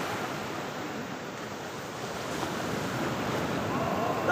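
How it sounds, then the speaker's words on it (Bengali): Large ocean waves breaking on Varca Beach in South Goa, a broad, continuous roar of surf and rushing water that builds slightly louder toward the end, with wind buffeting the microphone. "দারুণ, বিশাল ঢেউ আসছে এবারে"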